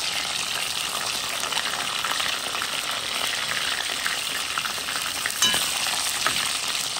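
Whole sausages drop into a pot of hot oil and fry with a loud, steady broadband sizzle, a sharper splash-like burst rising briefly near the end; no talking.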